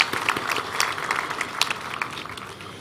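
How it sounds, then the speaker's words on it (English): An audience applauds at a Machakos University graduation ceremony. A brief burst of clapping from a crowd is heard at a moderate distance. "I think he deserves a round of applause."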